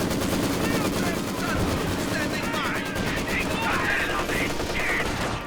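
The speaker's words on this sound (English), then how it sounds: "MG34 does suppress the conscripts in time." MG34 machine gun fire crackles in bursts during a Company of Heroes 2 battle, mixed with other gunfire and explosions, moderately loud under a commentator's ongoing talk.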